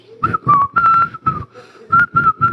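A person whistles a short tune: several sustained, clear notes in bursts, each held briefly with small pauses between them, loud and close.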